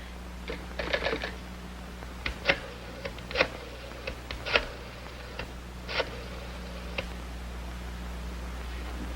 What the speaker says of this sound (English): Your phone must be out of order. I dial and nothing happens.